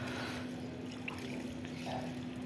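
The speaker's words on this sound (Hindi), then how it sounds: "मैं सारे पौधों में डाल रहा हूँ थोड़ा थोड़ा।" Liquid poured in small amounts onto potted plants with already moist soil, a soft steady trickle and splash heard up close against a faint hum, with no talking.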